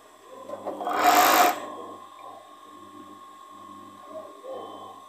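A sewing machine hems the sleeve of a cotton T-shirt, a brief loud whirring burst of stitching followed by quieter mechanical clicks and faint handling sounds.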